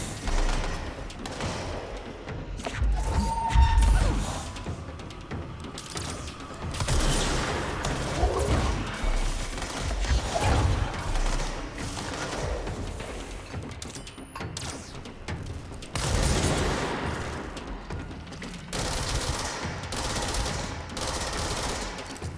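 Rapid bursts of gunfire in the action video game Control ring out through a loud, dense firefight, with clusters of shots swelling and fading among mechanical clatter.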